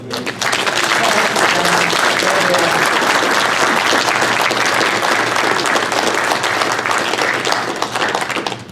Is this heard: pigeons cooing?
no